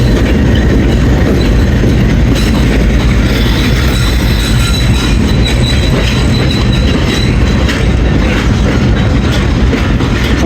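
Baba Fareed Express passenger train running on a branch line at night, a loud continuous rumble of wheels on rails with steady rattling and faint squeal, close and unbroken throughout, no voices.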